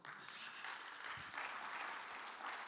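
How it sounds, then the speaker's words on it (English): An audience at a conference stage session gives itself a round of applause, a continuous, even patter of many hands heard from a distance and fairly faint. "give yourself a round of applause."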